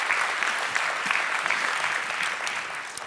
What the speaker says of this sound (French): Et sous vos applaudissements